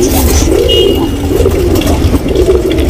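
A tournament racing pigeon coos in close, repeated low rolling calls over a watery, noisy background.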